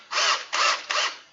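A step drill bit bores through material in three loud, even bursts of grinding whir, each about a third of a second long, close up and alone, while test bench parts are being built.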